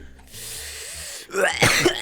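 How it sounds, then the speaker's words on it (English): A steady hiss gives way to a few harsh, raspy coughs from a man smoking a cigarette, close and loud, near the end. "He's coughing on the cigarette."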